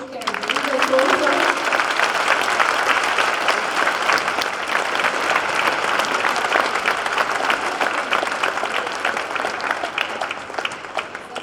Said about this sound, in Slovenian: dajmo še en zadnji zaključni aplavz za naše male sončke in druge sonce